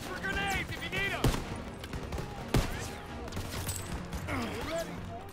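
Gunfire in the video game Call of Duty: WWII: two sharp shots stand out over a steady wash of battle noise and distant firing, with shouted orders and music in the mix.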